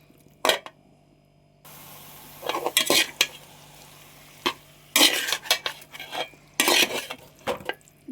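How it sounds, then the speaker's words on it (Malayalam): Chicken and onions being stirred together in a cooking pot with turmeric for a roasted-coconut chicken curry: irregular bursts of scraping and clanking spoon-on-pot strokes over a soft, steady frying sizzle, close and loud. "ഈ ചിക്കനും ഉള്ളിയും കൂടെ ഒന്ന് യോജിപ്പിച്ച് കൊടുക്കണം."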